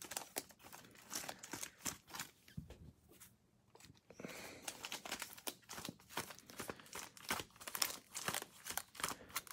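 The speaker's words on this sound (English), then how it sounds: "I'm going to shuffle them." Pokémon trading cards being shuffled by hand, close up: repeated crisp papery riffles and flicks in a steady rhythm, with a short lull around the third second and no talking.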